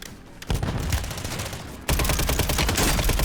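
Dense rapid gunfire in the Call of Duty Warzone video game, a steady loud burst that grows heavier partway through and continues as sustained automatic fire with no talking.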